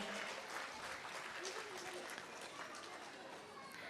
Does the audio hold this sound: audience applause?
yes